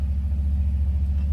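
Car driving near the Orange River during flooding, a steady low engine rumble and road drone inside the vehicle, even and continuous with no talking.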